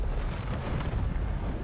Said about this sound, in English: How cool does the cannon fire look from afar